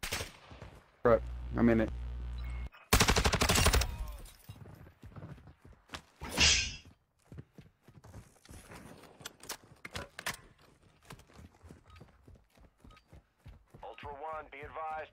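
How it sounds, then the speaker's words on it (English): Gunfire rattles through a video game firefight in sharp bursts and scattered single shots, mixed with game radio chatter and players talking over the action. "Taking effective fire."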